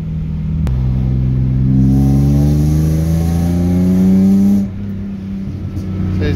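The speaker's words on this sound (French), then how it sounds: "t'as vu dès que tu lâches l'accélérateur, elle reste pas dans les tours, elle redescend cash" A car engine revs hard and holds high, then drops back quickly to a lower idle once the accelerator is released; loud and close, with no talk.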